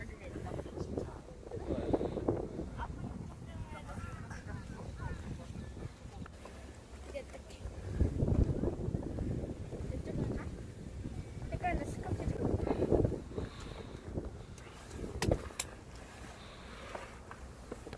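Wind gusting on a rocky mountain trail beside a cliff edge, roaring across the microphone in surges that swell and fade, with faint footsteps and someone speaking at times.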